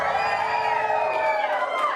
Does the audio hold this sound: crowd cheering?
yes